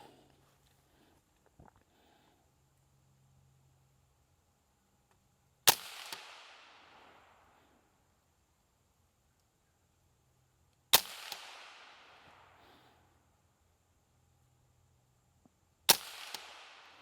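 A Tippmann M4-22 Magnum rifle fires three sharp, loud shots spaced about five seconds apart, each with a short outdoor echo trailing off, with quiet between and no talk.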